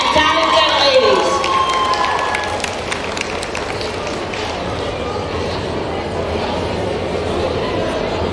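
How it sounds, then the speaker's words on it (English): An audience at a live community alliance launch event applauds after a performance, giving steady, sustained clapping mixed with crowd chatter and cheering. "Come on, let's get another round of applause."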